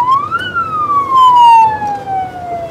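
An ambulance siren sweeps loudly and close by as a paramedic crew loads a patient, a single clear wailing tone rising then slowly gliding down.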